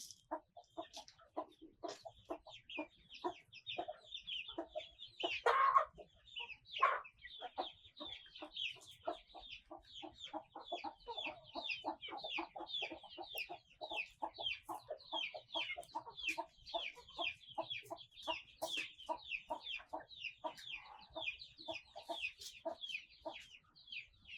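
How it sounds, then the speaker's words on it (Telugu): Free range country chickens, including game fowl, cluck and peck at grain in a farmyard, a busy stream of soft, overlapping clucks and clicks from many birds, with one louder squawk early on. "ఇక్కడ కోళ్ళు అయితే గింజలు తింటున్నాయి ఫ్రెండ్స్"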